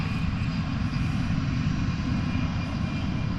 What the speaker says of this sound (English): Here goes the Delta flight off to Kansas City.